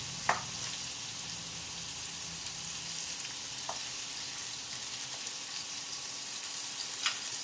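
Continuous sizzling of pork belly frying in hot oil, a steady crackle with a few sharp pops and clinks scattered through.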